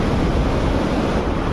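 Water rushes from an opened gate on a hill stream in Keonjhar. A loud, dense roar of flowing water fills the short moment, buffeted by wind on the microphone.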